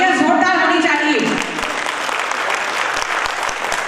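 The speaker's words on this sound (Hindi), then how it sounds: "तो तालियां जोरदार होनी चाहिए।" Enthusiastic audience applause at an International Women's Day Holi celebration in Audrey House, Ranchi, taking over after a brief sung or spoken phrase and continuing as dense, steady clapping to the end.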